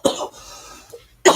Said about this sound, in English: Hopefully I'll get rid of this cough